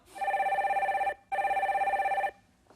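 A telephone rings twice in steady electronic trills, each ring about a second long with a short gap, as a caller is connected to a live broadcast; no talk over it.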